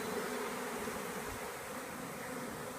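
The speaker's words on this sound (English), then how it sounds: "We've still got quite a few bees who are in here. So we're just going to leave them and let them make it into their hive." Honeybees from a newly installed package buzz around their hive, a steady, dense hum close by with no pauses.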